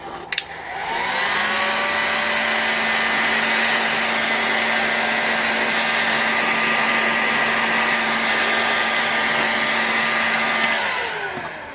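A heat gun blasting steadily on a bike's bearing housing during a Boca Bearing Fox 45 bearing swap, a loud continuous whooshing roar with a whining motor tone that clicks on, runs unbroken for about ten seconds, then winds down.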